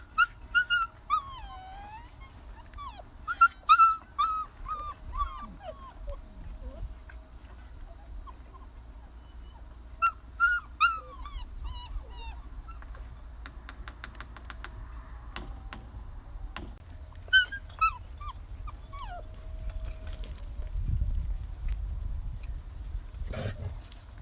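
Hungry Akbaş puppies whimper and whine in short high bursts, several clustered calls early then scattered yips later, near and moderately loud over a low background rumble.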